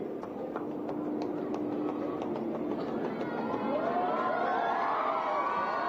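An Amrit Bharat train at Ayodhya Dham railway station, rumbling through a busy platform with a faint crowd murmur and rising metallic wheel squeal toward the end.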